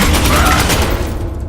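A burst of gunfire in Space Hulk Ascension, a dense rattling volley that fills the moment loudly, then thins out and fades within about a second and a half.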